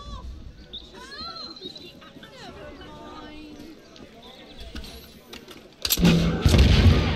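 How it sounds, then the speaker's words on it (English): In Assassin's Creed Unity, a guillotine gun fires as a mortar: a sudden loud blast near the end booms out over crowd ambience and game sounds, with a voice talking beforehand. "So that's the guillotine gun as a gun."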